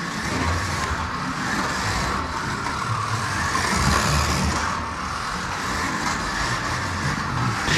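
A front-wheel-drive Autobianchi A112 slot car running around its track, giving a steady, continuous buzzing whir of motor and gears with slight swells in pitch, close by and without voices.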